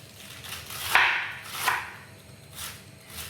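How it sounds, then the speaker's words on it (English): A knife chops cabbage on a cutting board in a home kitchen, with a handful of crisp, separate cuts spaced about half a second to a second apart, fairly close and quiet, and no talking. "How do you normally chop your vegetables, the cabbage?"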